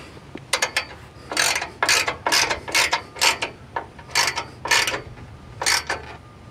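A ratchet wrench clicks in about ten quick bursts of rapid pawl clicks, tightening bolts on the bumper bar of a Ford Bronco Badlands, close and clear with short pauses between strokes.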